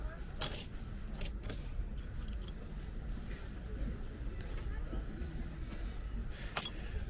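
Belgian 10-franc coins and other old coins from a flea market being handled, with a few short, bright metallic clinks near the start and one more near the end over steady low background noise.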